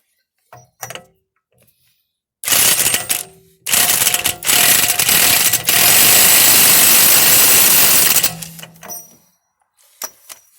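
A ratchet snugs up a rear suspension bolt on a BMW E61 Touring during a suspension rebuild, with a few faint clicks, then long, loud, steady mechanical whirring in two bursts that stops abruptly.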